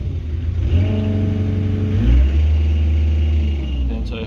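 A Hitachi EX60 digger's engine idles with a deep rumble, then revs up and climbs in pitch before settling into a steady higher drone, close and loud.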